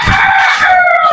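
A Texas gamefowl rooster crows close and loud, a single drawn-out call lasting about a second.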